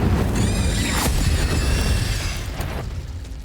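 A burst of spell effects in the Hogwarts Legacy video game, with an Incendio fire spell cast in a duel, makes a loud whooshing roar with bright crackling and a rising sweep that slowly fades, with no talk over it.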